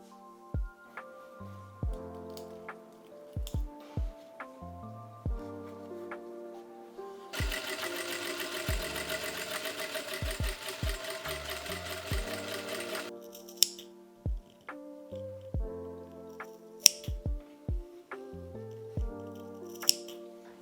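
Home sewing machine running steadily for several seconds as it stitches the side and top edges of a lace-up panel top with lining, between shorter stop-start bursts and scissor-like snips; no talking.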